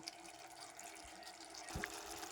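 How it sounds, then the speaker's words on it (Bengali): Water is poured into a fish curry cooking in a pan, a faint, steady liquid trickle with a brief splash near the end and no talking. "আমার এখানে মনে হলো একটু জলটা দিলে ভালো হয়, তাই একটু জল অ্যাড করলাম"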